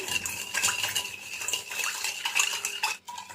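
A metal spoon stirs and clinks against a steel bowl, dissolving salt into dhokla batter with oil added, in a steady run of close scraping and tapping taps with no talk.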